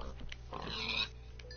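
A pig oinking in the Minecraft video game, a few short snorting grunts at moderate level over steady game background hum, with no talk.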